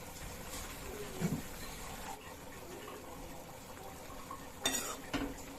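Maggi noodles and fresh coriander leaves stirred in a pan: soft, faint scraping and a few light clinks of a utensil against the pan, with quiet kitchen background.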